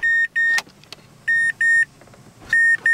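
With the door of a Mazda Demio opened, the car sounds a loud electronic warning chime in repeated short beeps, separated by gaps, alongside light clicks and rustles.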